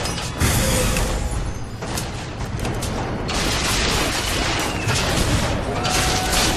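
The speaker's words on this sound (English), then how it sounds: "shoot at them, not me." Gunfire in the video game BioShock Infinite, a dense, loud, continuous battle din of overlapping shots and booms that runs without a break throughout.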